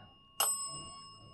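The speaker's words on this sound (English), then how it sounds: "Can you make the bell ring twice in a row for me?" A single bright bell ding, likely a small bicycle-style bell, struck once and left to ring out with a slowly fading shimmer in a quiet room.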